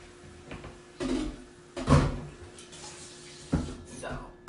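Tap water runs into a big pot for a seafood boil in uneven gushing bursts, fairly quiet and close, with a voice faintly present in between.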